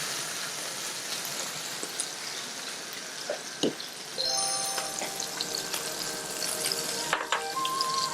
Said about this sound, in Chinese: 这样就会小火慢慢煎就可以了。